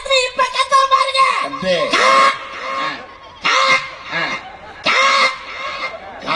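A person gives loud, harsh, repeated caws in bursts, mimicking a crow's call with short pauses between.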